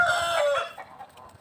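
A rooster crows loudly and close at hand amid a fight among roosters, one strained call tapering into low clucking noises.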